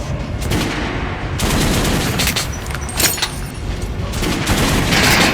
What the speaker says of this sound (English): Now shoot the armored dummy.